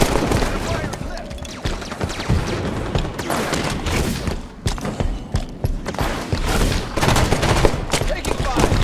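Sustained gunfire in a Halo 5 Coliseum Slayer match, rapid overlapping bursts and sharp shots crackling loudly and continuously, with voices mixed in underneath.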